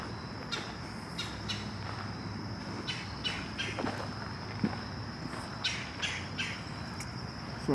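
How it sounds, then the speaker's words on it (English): Birds chirp and squawk in short bursts outdoors at Hempstead Lake State Park against a steady hum of insects or traffic, moderately near, with no talking. "So I hear some birds"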